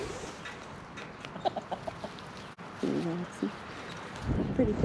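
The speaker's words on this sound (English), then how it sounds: "Little Roxy is one of our Barred Rock chickens with the black and white coloring." Barred Rock chickens cluck in short bursts close by, a soft series of clucks followed by a louder drawn-out call over quiet background noise.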